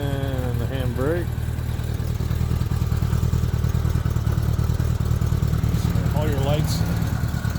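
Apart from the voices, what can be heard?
1977 Honda GL1000 Goldwing motorcycle engine idling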